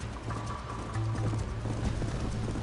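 Horse hooves clip-clopping steadily in the Red Dead Redemption video game, a continuous galloping rhythm at moderate loudness with a low engine-like drone underneath and no talking.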